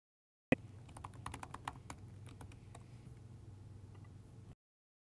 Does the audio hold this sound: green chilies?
no